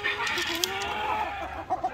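Chickens clucking steadily at close range in a backyard coop while laying hens feed, continuous soft calls with a few sharper clucks near the end.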